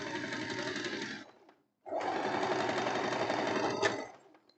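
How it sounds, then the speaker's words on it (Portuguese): Overlock serger sewing machine finishing the seams of fabric for elastic-waist trousers, running in two loud steady bursts with a short pause between them, no talking. "Agora eu vou passar tudo no overlock, meninas, tá? Para fazer o acabamento."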